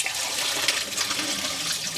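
Water from a pot of boiled potatoes pouring out as they are drained, a short continuous rushing gush of liquid heard alone.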